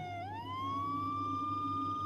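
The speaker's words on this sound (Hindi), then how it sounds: "सायरन मारती हुई गाड़ियां मोहल्ले की गलियों से गुजरी" Emergency vehicle sirens passing through neighborhood lanes wail with a rising pitch sweep, then hold a steady high tone, heard somewhat distant over a low background rumble.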